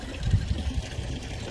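Water runs from a tap at a bathing spot, a steady low rushing flow that carries on evenly throughout at moderate level, with no talk over it.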